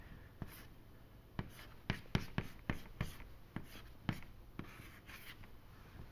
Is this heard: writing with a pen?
yes